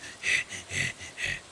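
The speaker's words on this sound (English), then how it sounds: "Heavy breathing." Heavy breathing in a Stardew Valley gameplay session, three slow, close, airy breaths in steady rhythm, each a soft hissing swell with a brief pause between.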